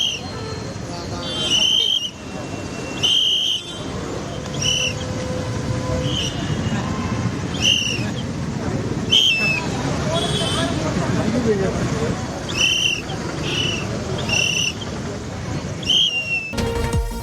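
Protesters who came to submit petitions blow whistles at a rally in Tamil Nadu, sharp shrill blasts repeating every second or two over a dense crowd hubbub of chatter and shuffling, ending in a longer burst.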